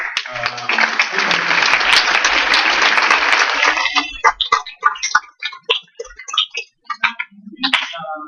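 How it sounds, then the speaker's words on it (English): Symposium audience breaking into applause, a dense burst of many hands clapping that fades after a few seconds into scattered individual claps and a few stray taps. "you and your community deserve a round of applause for hosting symposiums like this"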